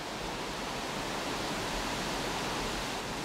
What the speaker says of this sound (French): Là, c'est la cascade. La grande cascade du pont d'Espagne, si on peut dire, pas grande par la taille, mais par le débit